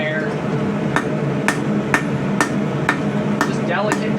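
A hammer strikes hot spring steel on an anvil while forging a small Viking-style mini saex knife, giving eight light, evenly spaced ringing blows about half a second apart over a steady background roar, close by.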